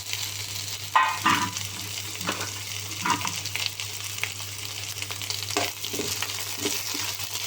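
Pre-cooked cluster bean pieces are stir-fried with lightly browned onions, a continuous close sizzle broken by several scraping stirs of a spatula, with no talk.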